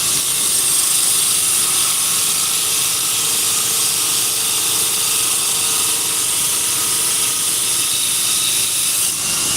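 A belt grinder shaping the bevel of a steel blade, a steady loud abrasive hiss and whine running continuously without pause, close and even throughout.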